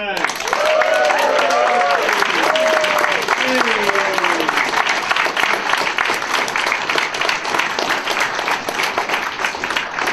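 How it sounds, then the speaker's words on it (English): Audience applause for sponsors at an awards show, a long, loud, dense burst of clapping from a crowd, joined by a few whoops and cheers early on and continuing steadily throughout. "Let's have a round of applause for all the lovely sponsors!"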